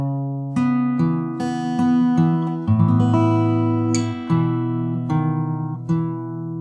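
Fingerstyle acoustic guitar picking the C part of a melancholy tune slowly, clear plucked notes and bass strings ringing one after another, close and alone without voices.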